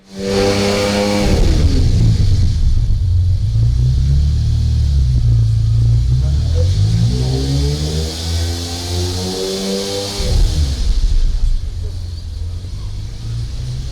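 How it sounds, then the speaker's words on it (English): A quad-turbocharged car engine idles with a deep, muffled rumble, then revs up and drops back in long rising and falling sweeps, loud and close, with a voice speaking over it. "So there's 4 turbos muffling that exhaust."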